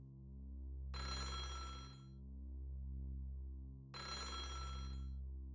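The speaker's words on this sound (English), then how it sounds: "The phone was ringing somewhere else in the mansion." An old telephone bell rings twice inside a spacious mansion in the OTO-GIRI-SOU video game, two bright rattling bursts about three seconds apart over a steady low droning hum, with no voices.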